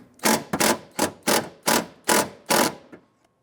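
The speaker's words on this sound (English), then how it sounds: "Using a 10mm socket, loosen the lower bolt" A 10mm socket wrench loosening the lower bolt on a 1999-2004 Jeep Grand Cherokee rear power window regulator, with seven evenly spaced rasping ratchet strokes, close and fairly loud, then quiet.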